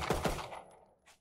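Weapon fire in the video game Valorant gives a quick burst of two or three sharp, loud shots that fade out, followed by one more abrupt shot near the end.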